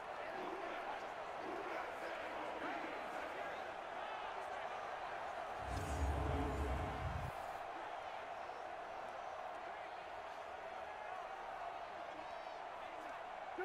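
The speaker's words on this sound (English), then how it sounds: "The crowd here in the dome making things difficult." A dense, steady roar from a crowd inside a domed stadium fills an NFL playoff game between the Chicago Bears and New Orleans, with a heavier rumbling surge partway through and a commentator talking over it.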